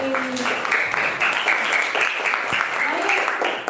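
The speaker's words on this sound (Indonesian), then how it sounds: "Kita beri tepuk tangan untuk Lois." Schoolchildren in an Indonesian classroom clap for a classmate, a brisk burst of hand claps mixed with young voices chattering over it.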